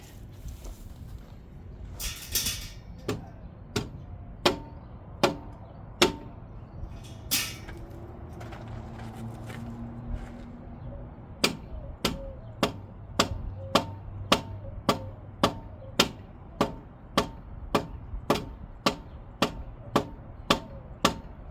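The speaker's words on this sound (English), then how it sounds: "Actual hammer right here." Sharp, loud hammer blows ring out on metal while a Ford 9-inch axle is swapped into a Jeep YJ Wrangler, a few scattered strikes early, then a quick, regular run of hits with faint clanks between.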